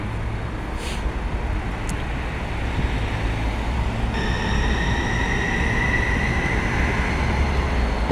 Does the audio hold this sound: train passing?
yes